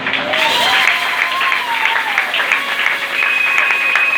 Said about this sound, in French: Et il mérite plus les acclamations.